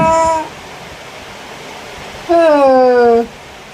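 A cat meows twice nearby: a short cry cut off at the start, then a longer, drawn-out, wavering meow about two seconds later, over a steady hiss of background noise.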